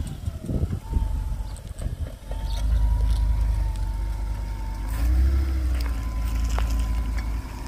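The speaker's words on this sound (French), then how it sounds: "on va faire un petit essai routier puis on va reprendre tout de suite" Engine of a van being road-tested on the move, a steady low rumble that holds throughout and swells as it revs, with a whining tone and passing traffic or siren-like sounds in the background.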